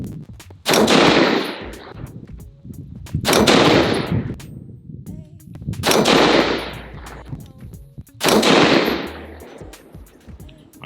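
Four loud Daniel Defense DDM5V2 .308 AR-10 rifle shots fired at even intervals about 2.5 seconds apart, each a sharp crack with a long rolling echo trailing off outdoors.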